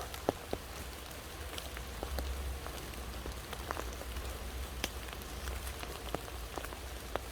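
Rain falls on leaves in a forest during mushroom picking, a steady soft patter close by with scattered sharper drops ticking through it.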